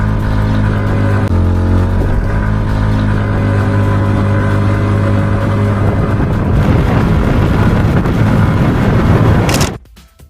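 A TVS Ntorq 150 scooter at top speed, a loud, steady engine drone mixed with rushing wind noise that holds constant for about ten seconds and then cuts off abruptly.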